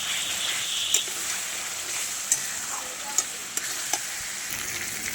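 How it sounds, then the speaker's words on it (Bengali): Chopped tomatoes fry for a spicy Bengali mutton curry, a steady sizzling hiss in the pan with a few sharp crackles and scrapes as they are stirred, close and continuous. "এটাও খুব ভালো করে আমি ভেজে নেব"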